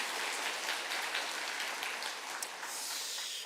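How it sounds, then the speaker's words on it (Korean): Sustained applause from a church congregation at a Full Gospel church's Daniel prayer gathering, a dense, even wash of clapping that holds steady for the whole stretch with no voices on top. "이 모든 것 하나님께 영광의 박수를 올려드리겠습니다."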